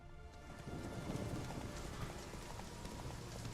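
Hooves of Roach, the horse in the Witcher 3 video game, clip-clop in a quick running rhythm under a dense, steady wash of background noise that lasts the whole stretch.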